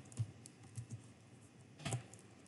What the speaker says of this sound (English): I'm going to just type in false